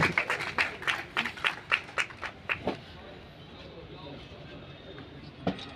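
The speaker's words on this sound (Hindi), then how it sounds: "तालियां डॉक्टर विकास पूनिया जी के लिए" A small audience at a World Tuberculosis Day event applauding a doctor, a short run of about a dozen sharp, distinct claps in a quick rhythm that stops after roughly three seconds, leaving quiet room noise and one last clap.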